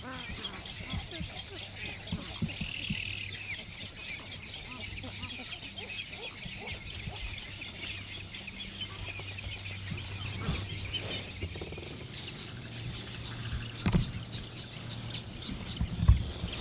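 White birds with curved orange beaks give harsh, scattered squawks out on the water during a kayak trip, mixed with steady wind and someone talking.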